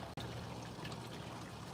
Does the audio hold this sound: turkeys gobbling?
no